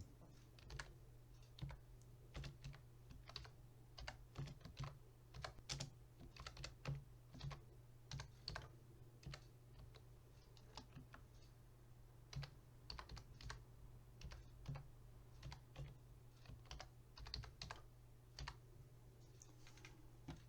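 Steady typing on a computer keyboard fills the whole stretch, a quiet, continuous patter of key clicks at an uneven rhythm over a low constant hum.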